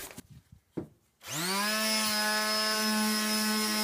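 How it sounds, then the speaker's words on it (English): A low-wattage palm sander with a soft foam base runs on a wooden Weihrauch HW95K air rifle stock during refinishing, a steady close electric whine with a strong tonal hum, preceded by a few light knocks. "I'm using a palm sander,"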